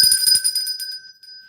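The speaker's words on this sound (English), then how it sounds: "You can have a bell." Small bell rung a few times in quick succession, bright ringing tones that linger and fade away, close and alone.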